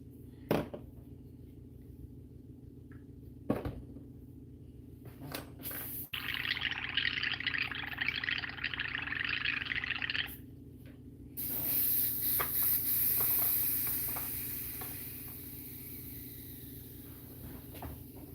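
Airbrush spraying purple paint onto a resin Superman portrait, with two sustained hissing bursts of several seconds each, separated by quieter pauses and light handling clicks.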